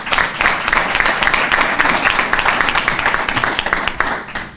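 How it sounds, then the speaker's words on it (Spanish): A room of attendees applauds after a talk at a medical colloquium on autoimmune diseases, with dense continuous clapping throughout, loud and full, without a break. "os pido un aplauso para él, por favor"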